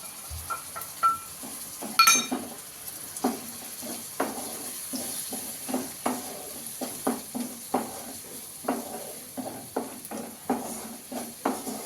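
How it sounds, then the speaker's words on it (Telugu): A paste of onion and coconut fries in a pan under a soft, steady sizzle, cut by regular scraping stirs of a spatula and an occasional clink against the pan. "ఈ పేస్ట్ అంతా పచ్చివాసన పోయే వరకు వేయించుకోవాలి"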